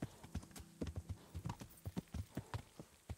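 Rhythmic clip-clop of horse hooves in the medieval video game Kingdom Come: Deliverance, a steady trotting gait, fairly quiet and close, with no talk.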